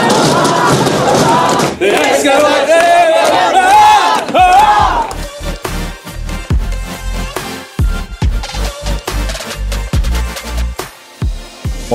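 Teams of people sing as loudly as they can in a shouted group effort, a dense roaring chorus that then gives way to scattered thumps and shouts.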